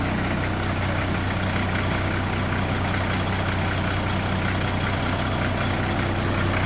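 An ESARCO 8x8 truck engine idles steadily with a deep, continuous low rumble and broadband mechanical noise, loud and close, with no speech.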